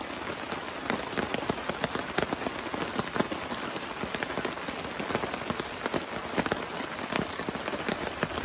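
Steady rain patters on a tent surface during a week-long camping trip in Uwharrie National Forest, a dense, continuous hiss with scattered louder drops close by, alone with no talking.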